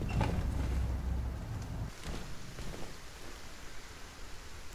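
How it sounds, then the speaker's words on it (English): Steady rain falls in the Silent Hill 2 Remake horror game, a dense, even hiss of drops that holds throughout, slightly heavier at first and then settling into a constant wash. "Oh, it's raining."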